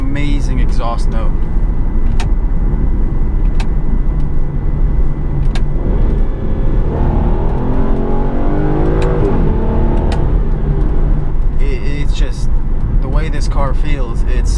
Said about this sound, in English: It's an amazing exhaust note.